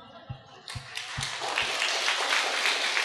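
An audience at a Buddhist dharma talk breaks into applause, a few isolated claps swelling into a dense, sustained round of clapping from a crowd.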